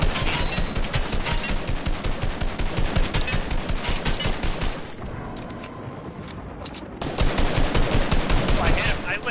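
Rapid automatic gunfire from Fortnite gameplay, dense and loud bursts rattling almost continuously with a short lull near the middle, with faint speech under it.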